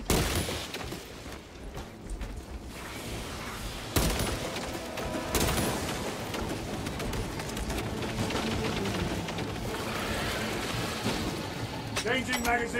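Sustained heavy gunfire and loud combat effects roar through a co-op firefight in Space Marine 2, bursts layered over one another with a sharp new volley partway through, while a voice talks underneath.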